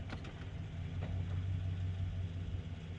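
A 2021 Chevrolet Tahoe Z71 works its way up and out of a hole on an off-road hill, its engine rumbling at a steady low pitch, close and continuous with slight rises in effort.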